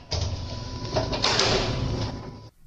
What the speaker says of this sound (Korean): 아유, 그냥 문을 쾅 닫아버리네요